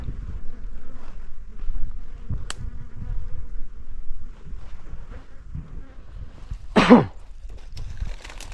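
Dwarf honeybees buzz faintly around a hidden nest outdoors in the rainy season, a soft, thin droning hum under light wind, with a brief louder rustle near the end.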